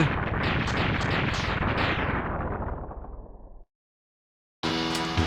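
A defeated enemy bursts apart in Mega Man X3, a loud crackling retro explosion that rumbles for about three seconds and fades into silence before another burst of game sound starts.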